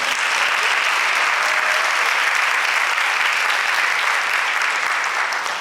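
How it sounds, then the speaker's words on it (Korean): Seminary chapel congregation applauding for a pastor after his first sermon, a sustained, even wash of many hands clapping with no pauses. "첫 설교해 주시는 우리 정성조 목사님의 뜨거운 다시 한번 박수 부탁드립니다."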